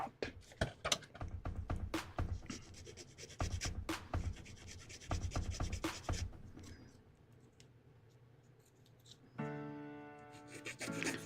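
Hand filing of a plastic 1/144 HG Gundam TR-1 Advanced Hazel model kit part, close and quiet, with bursts of short scratchy rasping strokes that pause, then a brief steady hum near the end.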